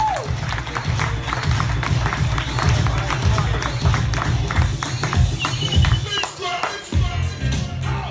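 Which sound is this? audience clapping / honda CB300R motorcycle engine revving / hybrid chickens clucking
audience clapping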